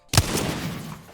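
Apex Legends gunfire at a cargo bot, one sharp loud shot followed by a ringing, decaying tail with faint rattling fire underneath.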